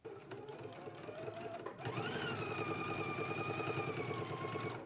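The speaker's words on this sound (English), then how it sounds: "Let's do the understitch now." A domestic sewing machine runs steadily while understitching a garment facing, a continuous whirring motor hum that pauses briefly then resumes and holds at a constant speed, close and fairly loud with no talking.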